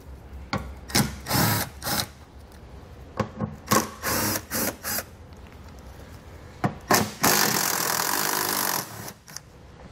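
A ratchet or power driver removes three 10 mm bolts from the front underbody panel of a 2018 Jaguar F-Pace. Bursts of whirring and clicking come in quick succession, followed by a longer, louder run near the end.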